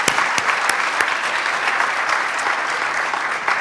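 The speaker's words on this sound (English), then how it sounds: "Let's give them another round of applause." A crowd at a David Suzuki lecture hosted by the Green Party gives volunteers another round of applause. The clapping is loud, close and continuous, with a few sharper individual claps standing out and no talking over it.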